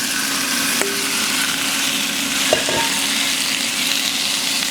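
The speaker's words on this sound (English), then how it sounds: "we're gonna sear off our steak" Steak sears in hot neutral oil in a cast iron skillet with a loud, constant close sizzle, broken by a couple of sharp metallic clanks from the pan or utensil.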